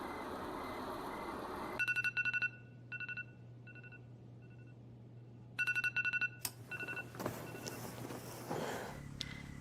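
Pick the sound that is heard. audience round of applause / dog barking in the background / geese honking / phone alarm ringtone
phone alarm ringtone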